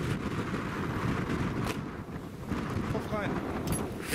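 Wind gusting outdoors on a cold day around a camper van, a steady broadband rush that swells and eases under faint voices, close and fairly loud against the microphone.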